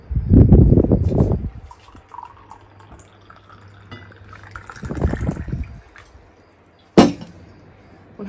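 Hot water pouring into a cup in a couple of short bursts with trickling, then a sharp clink near the end; no talking.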